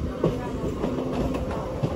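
The Simhadri Express passes near Shambhunagar flyover, a steady close rumble of carriages with rhythmic clickety-clack wheel beats and a thin squeal line running beneath.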